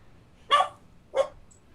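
A dog barks twice inside the video game Seven Days, Seven Lives, two clear, separate barks about half a second apart, moderately close, with quiet between them and no talk.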